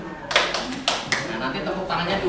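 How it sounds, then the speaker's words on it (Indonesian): A few loud, separate hand claps ring out during an ice-breaking exercise in a school counselling session, with people talking in between. "Yang pertama dengan tepuk tangan"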